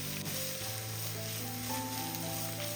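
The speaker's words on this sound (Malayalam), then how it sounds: "സവാള ഒന്ന് നമുക്ക് വഴറ്റിയെടുക്കാം." Chopped onion sautéing in a pan with ginger and garlic, a steady close sizzle that runs unbroken with a faint stir or two and no voices.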